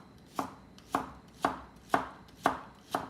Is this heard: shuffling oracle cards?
no